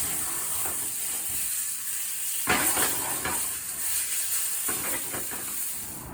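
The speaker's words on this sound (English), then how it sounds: "Eddie stirring it up before he fried some steaks" Steaks fry in a pan with a steady soft hiss, broken by a few bursts of louder sizzling and crackle when the meat shifts, close but fairly quiet, with no one talking.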